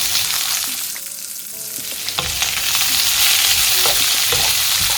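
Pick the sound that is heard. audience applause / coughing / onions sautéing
onions sautéing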